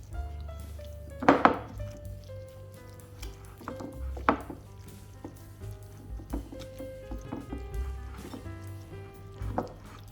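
Butter and spices are worked through chicken in a bowl, giving soft squishing and wet patting with sharp clinks of a utensil against the bowl, near and intermittent with no talk.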